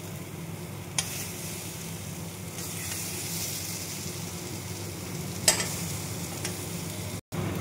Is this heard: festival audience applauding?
no